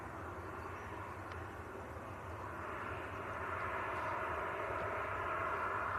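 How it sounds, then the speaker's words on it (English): A Lufthansa City Airbus A319 jet passes overhead at Manchester Airport, a steady broadband engine roar that swells slightly louder toward the end, heard alone without voices. "Nice Lufthansa City A319. KLM's coming across behind the Lufthansa as well."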